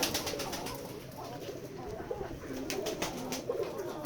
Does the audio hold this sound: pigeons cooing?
yes